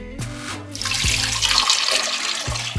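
Water pours into a pot with a rushing, splashing gush, loud and close, after a few short knocks of the vessel.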